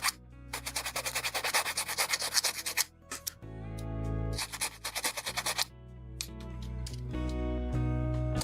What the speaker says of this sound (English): file it down together so it's like lines up